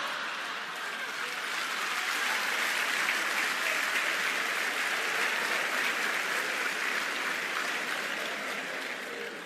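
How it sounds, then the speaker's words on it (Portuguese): Sustained audience applause fills a lecture hall, a full, even roar of clapping that holds steady for several seconds before easing slightly at the end. "Estava difícil de você aplaudir"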